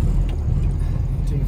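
A 1970 Volkswagen Beetle engine rumbles close by with a steady, low, throbbing drone throughout the short moment.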